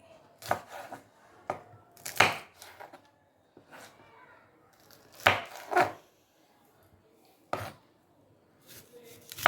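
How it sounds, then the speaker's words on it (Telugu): A knife slicing vegetables down the middle into slits for a brinjal and raw mango curry, sharp irregular chops striking a board with quiet gaps between, close and fairly loud, with faint talk in the background. "చీలికలాగా చేస్తే బాగుంటుంది మధ్యలో కట్ చేసి"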